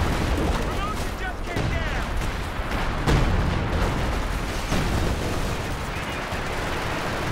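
Artillery shells and gunfire in a Company of Heroes 2 battle, repeated booming impacts and crackling small-arms bursts over a continuous loud din of combat.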